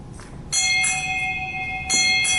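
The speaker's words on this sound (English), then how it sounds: "Sound 6 bells." A ship's bell rings six bells at a naval change of command ceremony. The clear, ringing strikes come in close pairs and sustain between them, loud and near, with no talk.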